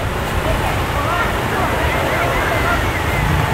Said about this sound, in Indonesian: Angin ini gede ini.